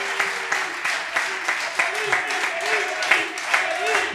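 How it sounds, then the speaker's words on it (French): A studio audience gives a final round of applause for a guest on a French radio comedy show, a loose, moderately loud patter of claps with speech running over it. "Dernier applaudissement pour Magali"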